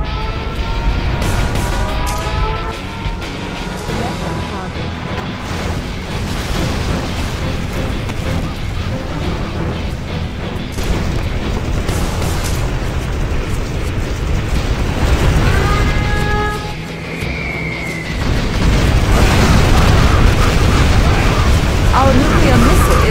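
A nuclear missile detonates in the Red Alert strategy game, filling the scene with a loud, sustained roaring rumble that swells again near the end. The blast is layered under game effects and a brief rising tone.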